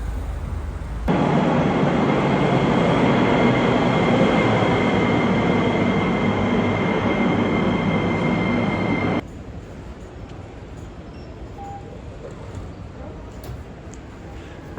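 A Sofia metro train roars steadily past for several seconds underground, a loud continuous rumble with tonal whine, then cuts off abruptly leaving quieter background hum.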